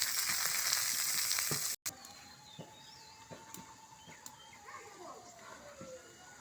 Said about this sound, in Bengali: পেঁয়াজটাকে ভালো করে নাড়িয়ে নেব।